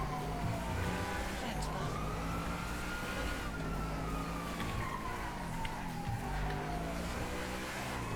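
Police car sirens wail through Grand Theft Auto V gameplay on PC, a rising and falling tone held steadily over constant engine and traffic noise for several seconds.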